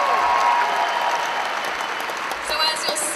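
An audience applauding a taekwondo demonstration team's performance: dense, loud, continuous clapping from a crowd that eases slightly toward the end, with a voice briefly audible over it.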